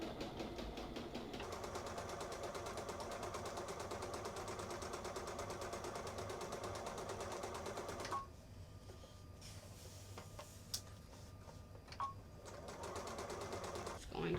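A Brother sewing machine quilting fabric hums in a steady, rapid needle chatter for about eight seconds, then stops, leaving faint clicks and handling noises before restarting briefly at the end; quiet and close.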